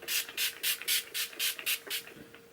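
Urban Decay All Nighter setting spray misted in about eight quick, evenly spaced hissing bursts, close by, fading after the last pump.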